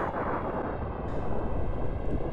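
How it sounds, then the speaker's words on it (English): Dense, roaring explosion from Star Fox, a loud continuous broadband blast rumbling steadily throughout with no talk. "I zoom into the explosion again."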